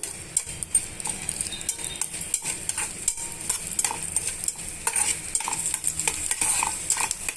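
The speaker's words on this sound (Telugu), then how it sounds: "నాలుగు వెల్లుల్లి రెబ్బలు వేసుకొని ఇవన్నీ బాగా వేయించుకోవాలండి" Garlic cloves and tempering spices frying in oil for beetroot tadka, a steady sizzle and crackle with repeated scraping of a stirring spoon against the pan, close and continuous, no talking.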